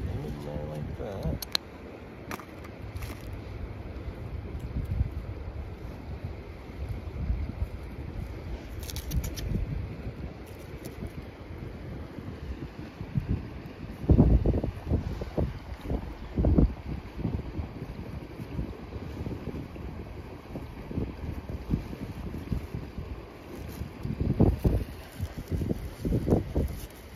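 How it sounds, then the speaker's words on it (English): Strong gusty wind on the northern Nova Scotia shore buffets the microphone in heavy rumbling bursts throughout, with a person talking at times amid the blustery roar. "Might be too windy to pull this off today"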